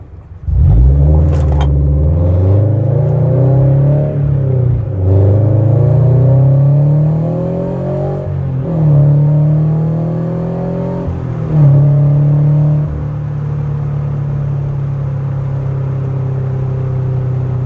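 A Subaru BRZ with a Berk high flow catted front pipe, on a bagged suspension, pulls away and accelerates through several gears, its engine note rising and dropping with each shift before settling into a steady cruise drone.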